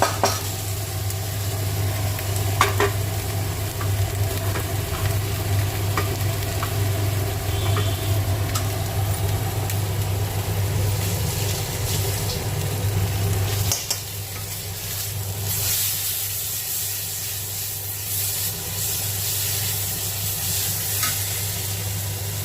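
Grated tomato, chilli, turmeric, cumin and coriander powder sizzle steadily in a hot pan with onion, ginger and garlic for a duck egg and cauliflower curry, with occasional stirring scrapes over a continuous frying hiss.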